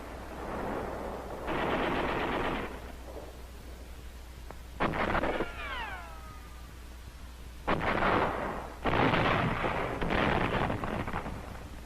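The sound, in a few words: machine gun, grenade and rifle fire in WWII Saipan battle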